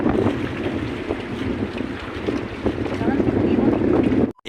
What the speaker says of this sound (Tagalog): Sama kayong balod og hangin.